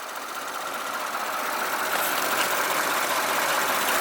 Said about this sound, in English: It's very smooth, torquey, pretty impressive little 3-liter power plant.